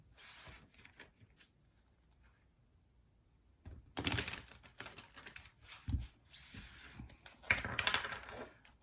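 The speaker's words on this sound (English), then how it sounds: "let's do one more shuffle." Tarot cards shuffled close by in a quiet room, with soft riffling bursts that grow into louder, denser flurries of papery slaps and taps toward the end.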